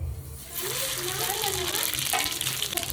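Whole cumin, coriander, garam masala, cardamom and bay leaf hit hot oil with a steady, close sizzle and crackle that continues throughout and briefly flares when stirred.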